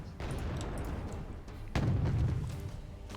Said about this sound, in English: I need an airstrike. That's the fastest solution I got. Bomb going in.